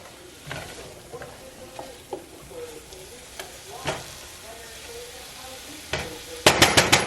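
Onions, garlic and mushrooms sizzle in a frying pan as they are stirred, a steady close fry with scattered utensil scrapes and clinks, then a burst of sharper clatter near the end.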